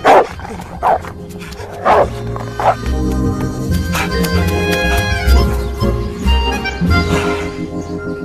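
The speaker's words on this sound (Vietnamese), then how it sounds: "cẩn thận chó giữ." A guard dog barks in short, loud, repeated bursts close by, while cartoonish background music plays underneath.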